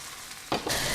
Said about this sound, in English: We're gonna cook this up for another 5 minutes.